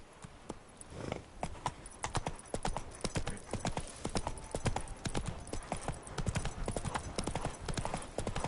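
Roach the horse gallops in The Witcher 3, with rapid, continuous hoofbeats at a steady rhythm over an outdoor ambience, close and fairly loud throughout, with no talking.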